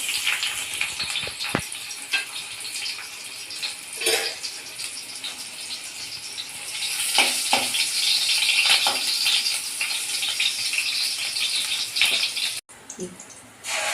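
Bay leaf and chopped onion hit hot oil for an egg green masala, producing a steady, fairly loud crackling sizzle that swells midway and briefly cuts off near the end.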